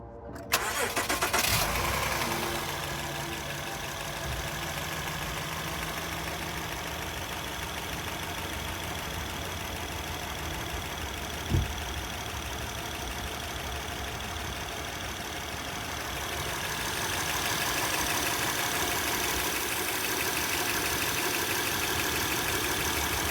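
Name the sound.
car engine idling with tick from exhaust leak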